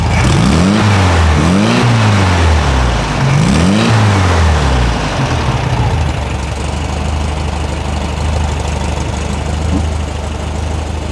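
A 1973 VW Thing engine revs up and down several times in quick succession, then drops to a loud, steady, rumbling idle.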